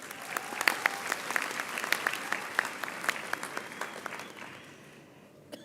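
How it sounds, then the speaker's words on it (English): Audience applause for graduates at a university graduation ceremony in Bloemfontein, a large hall of clapping with distinct individual claps standing out, swelling early and then tapering off gradually toward the end. "Give yourself a round of applause."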